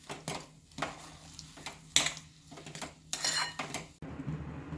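Spoon scraping and clinking against a pan while mango sheera is stirred and mixed, a string of irregular close metallic knocks and scrapes with short quiet gaps and no talking.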